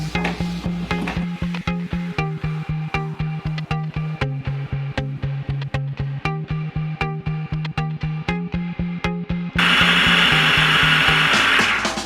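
Celery is chopped in a food processor with a rhythmic series of sharp, evenly spaced pulses and chops, close and loud, ending in a sustained whirring blend.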